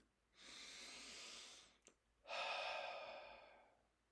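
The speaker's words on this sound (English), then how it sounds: "Let's do the snuggle breathing together. Breathing in, I breathe for me." Two slow, deep breaths, soft and close, each long and airy with a short gap between, heard alone in a quiet bedtime-story relaxation setting.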